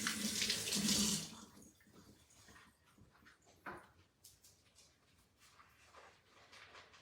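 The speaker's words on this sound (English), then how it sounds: "I'm going to wash my apple." Tap water running briefly at a sink while an apple is washed, a burst of splashing at the start, then quiet with soft handling sounds.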